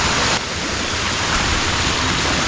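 A cool mountain stream flows through a valley near a pension in Hwacheon, heard as a close, loud, unbroken hiss and rush of water that stays steady throughout.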